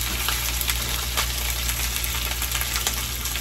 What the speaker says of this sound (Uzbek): Qovurib olish kerak.